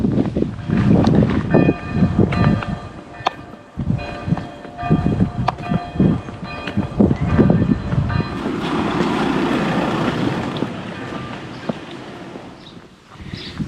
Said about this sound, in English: I'm heading into this village and I can hear the church bells ringing out.